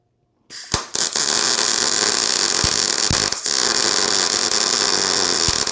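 A Sefaspe MIG200 Pro MIG welder laying a bead starts after a brief silence, then gives a loud, steady buzzing crackle that runs close and continuous, broken by a couple of short pops and dips.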